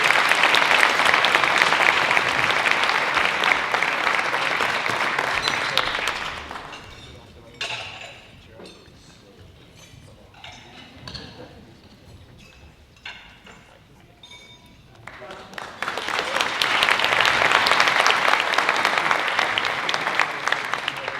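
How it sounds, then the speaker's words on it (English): Applause for a representative at a political forum: a dense round of clapping opens, fades into a quieter pause with scattered sounds and murmurs, then a second strong burst of clapping swells near the end. "let's give a round of applause for Representative Notwell"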